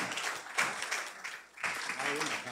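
Audience applause rises and falls in two sustained bursts at a French-language celebration event, with speech mixed in.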